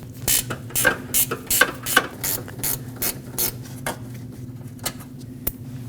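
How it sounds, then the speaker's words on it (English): A hand ratchet clicks in quick bursts while loosening the bolt that holds the AC condenser to the radiator on a 2005-2021 Nissan Frontier 2.5L L4, sharp metallic pawl ticks repeating close up with short pauses. "remove the bolt that holds the condenser onto the radiator"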